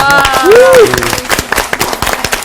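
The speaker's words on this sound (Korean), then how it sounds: "자, 우리 박수 한번 하십시오." An audience in a Bible lecture class claps, giving irregular sharp hand claps over a murmur of voices and a brief sung or spoken tone at the start.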